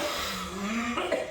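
A man who is ill with a nasty cough gives a short, harsh cough, close and moderately quiet.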